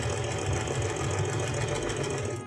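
Domestic sewing machine backstitching through thick fabric, a steady loud motorized whir with rapid needle chatter, continuous and close for the whole stretch, no voices.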